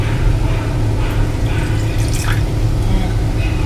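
Calamansi juice being poured, a loud close trickle and drip of liquid over a strong low hum, with a voice speaking faintly beneath.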